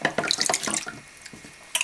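Naniwa whetstone lifted out of a water well, splashing and dripping water in a few quick bursts, close and brief, then a final splash at the end.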